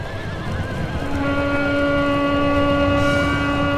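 A horse neighs in a battle in the Stainless Steel mod for a medieval strategy video game, one drawn-out, wavering whinny that rises clearly over a low background rumble.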